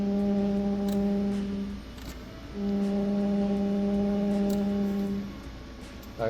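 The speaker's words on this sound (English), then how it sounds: "Customer states my blower motor sounds like a foghorn." A truck's faulty blower motor lets out a loud, deep foghorn-like drone in two long, steady blasts separated by a brief pause, with a faint hiss underneath.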